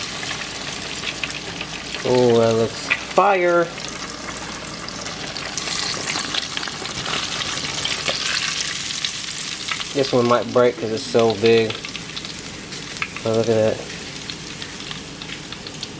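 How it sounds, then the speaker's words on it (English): Oil sizzles and crackles steadily as freshly caught fish fries up close, a continuous hiss with people talking briefly over it. "our fish is about done frying"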